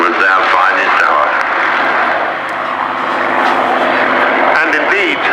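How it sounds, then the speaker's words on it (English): A P-51 Mustang chasing a Messerschmitt at an RAF Cosford airshow, propeller engines droning loudly and continuously with shifting pitch while a commentator talks over them. "flying the Mustang in that tail chase on the Messerschmitt"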